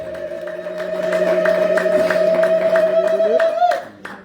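A church congregation ululates in praise during a service: a sustained, trilling high-pitched chorus over rhythmic clapping that holds for about three and a half seconds, then cuts off abruptly.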